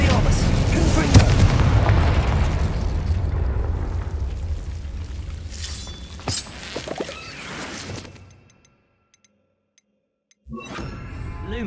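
Booming fiery blasts from the Confringo spell in Hogwarts Legacy roll out over a dense game soundscape, with a heavy low rumble that fades toward silence before the game sounds return.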